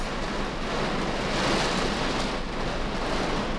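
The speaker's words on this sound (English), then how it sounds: "Can you guys hear the rain?" Heavy rain drums steadily on a car roof, a dense continuous hiss and patter with no talking.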